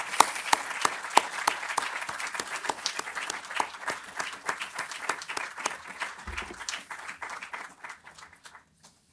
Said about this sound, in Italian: ancora a lui questo applauso ovviamente